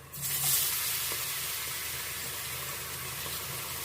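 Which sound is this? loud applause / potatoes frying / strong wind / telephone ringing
potatoes frying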